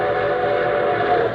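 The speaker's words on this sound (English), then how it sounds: "here comes our star-studded show train" A train whistle sounds as a radio-show effect: a loud, sustained, steady chord-like tone over a rumbling train, heard up front with no voices.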